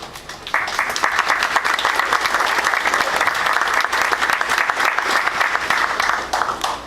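Wedding guests break into applause: a dense, steady wash of many hands clapping together, sustained and fairly loud throughout, with no voices over it.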